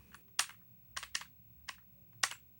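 Email being typed on a computer keyboard, a handful of crisp, close keystrokes in irregular clusters with short pauses between them, with no talk.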